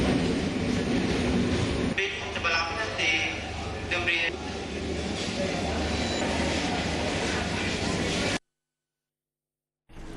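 At the crowded Kurunegala railway station in the morning, a train rumbles low and steady beneath the murmur of a bustling crowd with voices, before the sound cuts abruptly to silence near the end.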